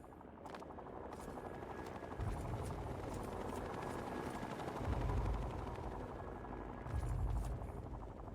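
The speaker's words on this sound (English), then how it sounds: "Your helicopter's on fire." A burning helicopter in the video game Fallout 3 gives off a steady, faint rotor thrum with a low rumble and a few heavier thumps.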